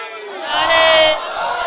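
A large crowd at an Urdu religious gathering shouts back a loud, sustained unison chant in reply to the Nara-e-Takbeer slogan, many voices swelling together and then easing slightly.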